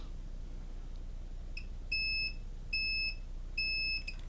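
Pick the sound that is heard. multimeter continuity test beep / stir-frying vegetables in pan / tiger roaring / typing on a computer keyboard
multimeter continuity test beep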